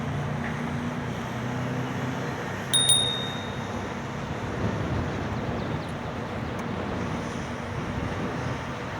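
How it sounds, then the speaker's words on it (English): Small handlebar bell on a RadRover eBike gives a quick double ding on an outdoor path, faint under steady wind rumble. "I like this little bell."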